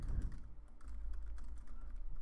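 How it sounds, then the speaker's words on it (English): Typing on a computer keyboard, a quick run of soft, irregular key clicks against a low background hum, fairly faint and with no talk. "I'm just typing some text"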